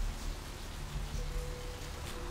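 Steady rain falls in the video game Vampire: The Masquerade Bloodlines, a soft, even hiss of drops on surfaces that stays constant and fairly quiet throughout, with no voices.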